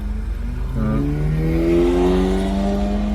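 A manual 2018 Subaru WRX engine revs hard under heavy driving, its pitch climbing in rising harmonic sweeps, loud and close with a steady roar throughout.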